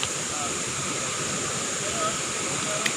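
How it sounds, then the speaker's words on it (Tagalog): A waterfall roars steadily nearby, a dense broadband rush of falling water filling the whole scene, loud and unbroken, with faint voices beneath it. "dito na kami sa falls"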